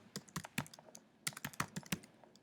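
Keys clatter on a computer keyboard in two quick clusters of crisp, close taps separated by a short pause, quiet and alone with no voices.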